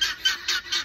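Chickens and other birds in a home garden, giving a quick series of about four loud honking squawks in close succession, near and clear, with no talk.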